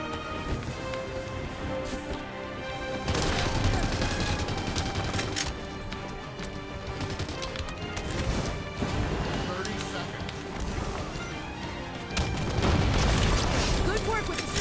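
Shotgun blasts and other gunfire crack in a Halo 5 Infection match, several loud booms scattered through steady game noise while players talk over them.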